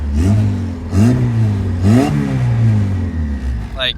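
A car engine with a suspected failing turbo revs up in three quick rising bursts about a second apart, loud and close, then settles to a rough idle before a brief whine at the end.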